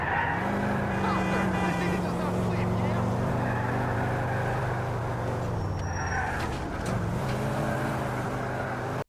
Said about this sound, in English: Niko has to avoid all the traffic on the road while making sure Darden doesn't get away